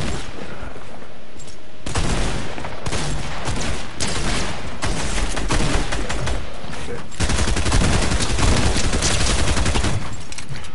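Lever-action shotgun fire in Fortnite, loud repeated gunshots in quick bursts across the clip amid other battle gunfire, with no talk over it.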